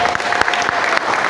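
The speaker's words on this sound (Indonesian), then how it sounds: "Tepuk tangan." Crowd at an Isra Mi'raj religious gathering at a school in Ungaran clapping in a short, dense burst of applause, close and fairly loud.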